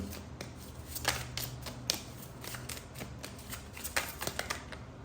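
A deck of tarot cards is shuffled and drawn by hand, producing rapid crisp riffling flicks and snaps in quick irregular bursts, close and fairly loud with no talking.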